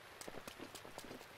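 Rain falls in Zelda: Breath of the Wild, a faint soft patter with scattered drop taps and light footsteps, quiet and steady with no voices.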